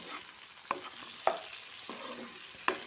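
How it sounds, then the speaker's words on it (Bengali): Green beans and eggplant frying in a pan, with a soft steady sizzle and four sharp clicks of the spatula against the pan as the vegetables are stirred, close up and without talk. "শিম আর বেগুনগুলো ভালোভাবে আমি মিশিয়ে নেব।"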